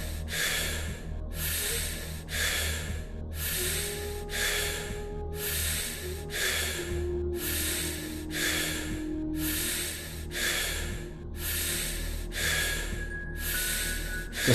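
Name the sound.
constant deep breathing during breathwork session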